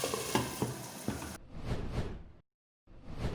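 Chicken tikka with green chillies sizzling and frying in a pan, loud crackling with stirring scrapes, then quieter hissing bursts broken by a short silence before the sizzle resumes.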